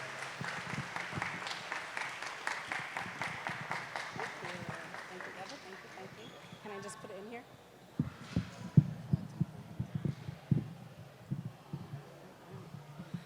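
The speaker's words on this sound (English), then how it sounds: "Please, if you could, give us applause for Mebraht" Audience applause for speaker Mebraht at the opening ceremony of Wa'Ela Tigray 2023 in Dallas, Texas, with steady clapping that fades after about six seconds into room noise, a few knocks and faint voices.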